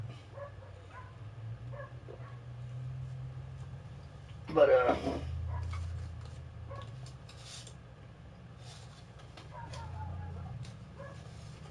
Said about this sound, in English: you hear dogs barking back here